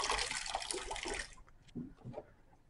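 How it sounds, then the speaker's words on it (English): Water runs from a tap to rinse a pH meter electrode during calibration, a steady broadband splash for about a second and a half that then cuts off, leaving faint handling noises. "rinse the diode"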